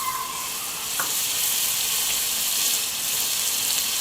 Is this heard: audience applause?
no